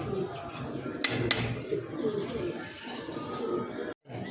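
Pigeons coo in soft, repeated throaty phrases close by, with a couple of brief sharp noises and a short drop-out near the end.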